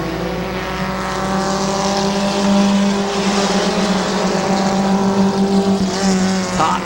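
Race cars roar around a dirt speedway track, their engines droning loudly with steady harmonic tones that swell and ease as they run side by side, with no voice over them.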